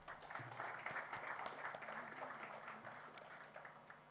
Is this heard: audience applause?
yes